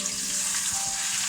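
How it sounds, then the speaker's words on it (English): Marinated chicken sizzles in a hot wok with a steady, bright, hissing crackle that runs unbroken and fairly loud, close by, with no talking. "You want to hear a bit of sizzle."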